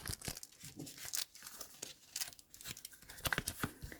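A paper package sent by a subscriber is torn open by hand with repeated close ripping and crinkling bursts in an irregular rhythm, with no talking.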